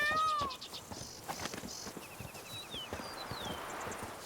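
Cat meowing in the video game The Witcher 3, set in a quest around a picturesque estate with a dry well, a short mew among horse clip-clops, chirps and game ambience.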